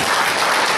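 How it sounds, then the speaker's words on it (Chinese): Members of a Chinese-speaking church congregation clap for God in a short, dense, loud burst of applause filling the whole moment. "拍手跟上帝哈"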